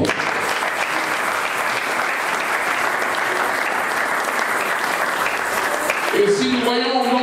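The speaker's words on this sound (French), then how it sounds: "Est-ce que nous pouvons acclamer?" A church congregation applauds in a steady, dense wash of clapping that lasts several seconds, then fades as a voice resumes speaking.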